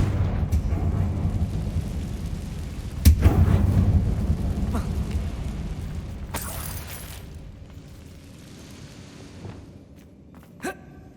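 A Confringo fire spell going off inside an abandoned mine in the Hogwarts Legacy game, one sharp blast followed by a rumbling boom that fades over several seconds, with a few smaller impacts and effects scattered around it.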